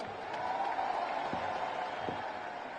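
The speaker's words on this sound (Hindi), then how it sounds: "एक बार इनके लिए भी जोरदार ताली हो जाए।" Crowd applause fills a political party's national conference in Delhi, a steady, dense wash of clapping sustained for a few seconds at moderate volume with no clear break.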